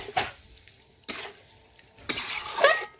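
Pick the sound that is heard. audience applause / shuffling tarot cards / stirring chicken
stirring chicken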